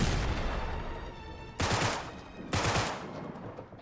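Rapid bursts of gunfire from the video game Uncharted 3, with two loud, sharp volleys striking near and over a dense background of shooting, no talk.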